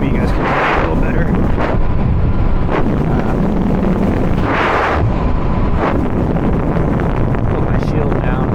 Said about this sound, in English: It was pretty windy there.